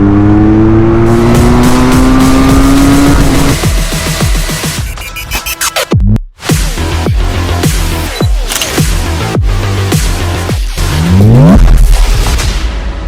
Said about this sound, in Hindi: ये मेरे सामने खड़ी है QJ मोटर की SRK 400 naked street fighter bike